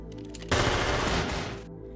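A rapid, loud burst of automatic gunfire from an action film erupts suddenly after a quiet moment and rattles on for about a second before cutting off.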